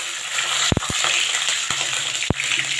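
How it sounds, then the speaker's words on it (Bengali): Black cumin seeds and green chilli frying in hot oil for a Bengali cauliflower and potato posto, a steady close sizzle with a few sharp pops and crackles breaking through, no voices. "তেলটা গরম হয়ে গেছে, এবার আমি একটু কালো জিরে ফোড়ন দেব।"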